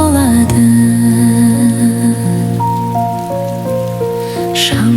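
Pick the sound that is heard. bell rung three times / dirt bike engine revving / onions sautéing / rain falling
rain falling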